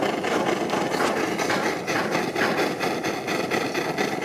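A Svea 123 brass camping stove burner runs unevenly alongside a second 123R stove, a steady roaring hiss with a faint rhythmic puffing pulse. The sound stays close and continuous, with no talk over it.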